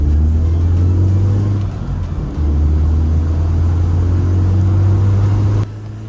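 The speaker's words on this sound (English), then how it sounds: "You can hear the sound of the 2-liter 4-cylinder engine powering the car down the road with its 167 horsepower" A 2010 Mazda MX-5 Miata's 2-liter four-cylinder engine drones steadily as the roadster drives with the roof down, a loud continuous low hum with a brief dip in pitch around one stretch, no voices.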